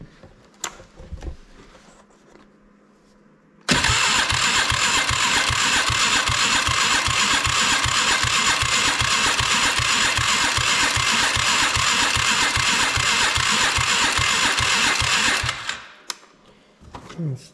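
A Polaris Sportsman 500 ATV engine cranks and catches, then runs at a fast, steady buzzing idle for about twelve seconds before cutting off abruptly.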